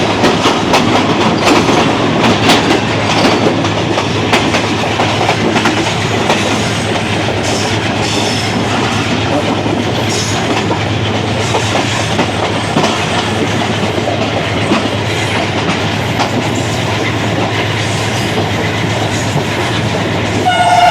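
The 48 Down Rehman Baba Express passenger train, running from Peshawar to Karachi, passes near Malir railway station with a loud, steady rumble and wheel clatter for about twenty seconds, and a horn sounds above it. No one speaks.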